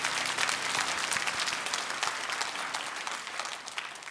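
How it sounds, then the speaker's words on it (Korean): A church congregation at a Christmas thanksgiving service claps in encouragement, a full, even round of applause from many hands that holds steady and slowly eases off. "박수로 한번 격려할까요?"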